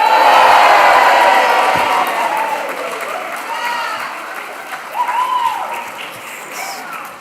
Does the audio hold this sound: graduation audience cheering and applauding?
yes